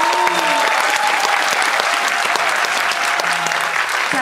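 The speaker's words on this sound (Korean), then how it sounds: "재밌게 보신 만큼 박수 한번 크게 쳐볼까요?" A cinema audience at a film screening talk in a Seoul multiplex claps loudly and continuously, a dense close wash of hands with faint crowd murmur mixed in.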